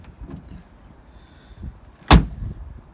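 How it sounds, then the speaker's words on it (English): A single solid thump of an Ultima GTR car door shutting, sharp and close, after a few quieter bumps and rustles. "So when you close the door,"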